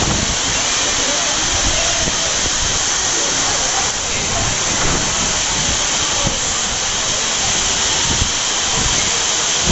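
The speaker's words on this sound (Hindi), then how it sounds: "आप लोग इधर देख सकते हैं भयंकर पानी गिर रहा है।" Heavy rain pours down in Gharghoda, Chhattisgarh, a steady, loud, unbroken hiss that runs the whole time with no pauses.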